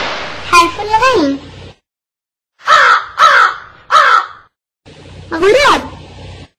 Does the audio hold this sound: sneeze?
no